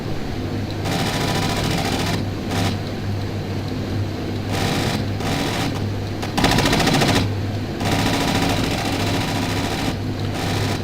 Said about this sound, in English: You gotta love the way the Lancaster can practically shoot all the way down